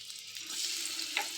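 Marinated eggplant (brinjal) slices frying in a pan give a soft, close sizzle with light crackles and a sharper pop near the end, brief and fairly quiet.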